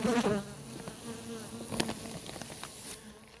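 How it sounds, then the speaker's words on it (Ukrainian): Honey bees buzz in a steady, close drone that fades slightly, with a few brief louder passes near the start, around hive frames. "Бджола сіренька."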